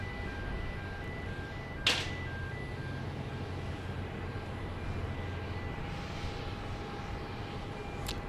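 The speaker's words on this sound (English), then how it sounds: "You might hear in the background the neener sound of a Southwest jet being towed." A Southwest jet, a 737 MAX 8, being towed at night at Dallas Love Field airport: a steady low droning engine hum with a continuous tone running under it, a sharp clank near two seconds, fairly distant, no talking.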